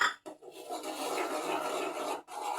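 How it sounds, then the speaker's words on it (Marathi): Rice flour is stirred into an onion mixture in a pan, a soft dry scraping and rasping of spoon against pan that runs continuously for a couple of seconds, fairly quiet and without speech. "ढवळत राहायचं घालताना"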